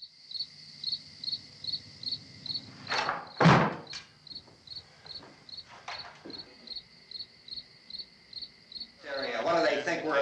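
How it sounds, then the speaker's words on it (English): Cricket chirping on the soundtrack of the 1968 film Night of the Living Dead, a loud, steady, evenly pulsed chirp that runs throughout, broken by a few thuds and knocks and a burst of rustling noise near the end. "It's got, the loudest fucking cricket track in history."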